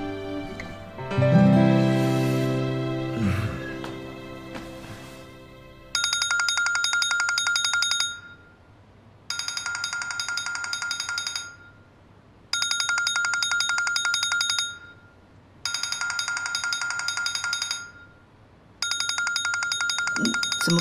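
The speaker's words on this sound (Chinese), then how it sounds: "怎么不接电话呀？" A telephone rings in repeated bursts, about five evenly spaced rings, loud and close, after a few seconds of other indoor sound at the start.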